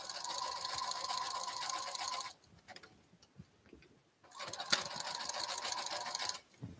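A sewing machine stitches baby leggings fabric in steady, rapid mechanical runs, pausing for about two seconds midway before resuming, close and fairly loud with faint background sounds during the pause.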